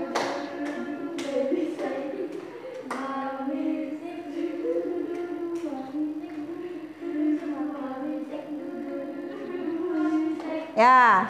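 Children in a classroom clap along while singing, with several sharp claps near the start and lighter tapping beneath the loud group singing.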